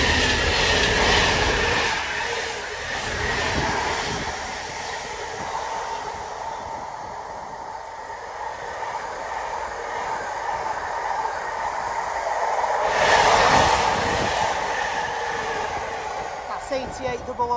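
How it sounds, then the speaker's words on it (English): A freight train rolls through Wigan North Western station, its rumble and wheel clatter steady at moderate distance, swelling and easing as wagons pass, with a louder surge near the end. "we've got our freight train of the day."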